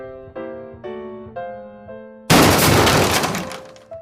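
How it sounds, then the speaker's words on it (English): Two toy model engines, a dummy Thomas and Henry, collide on a model railway layout after the points send them onto the same loop. A sequence of tonal chime-like notes is followed by a sudden loud crash that fades out over about two seconds. "Both the dummy Thomas and Henry had crashed into each other."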